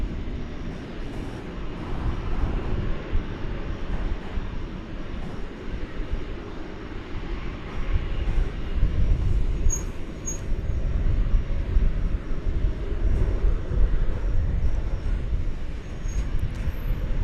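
A Boeing 737-800 airliner taxis at DFW Airport, its engines making a distant, steady low rumble and hum that swells slightly in the latter half, with no voices present.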